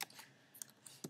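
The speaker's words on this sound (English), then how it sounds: "So now what you can actually do is start typing." Typing on a computer keyboard: a few scattered key clicks, close and moderately quiet, with short pauses between taps and no talking.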